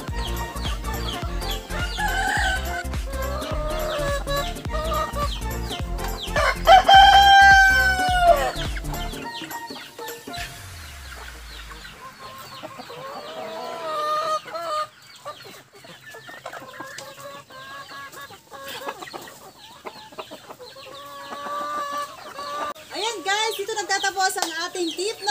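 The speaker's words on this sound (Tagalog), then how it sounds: "Ito ay manok na kaber." Chickens clucking and a rooster crowing up close, busy farmyard fowl calls throughout, with someone talking over them.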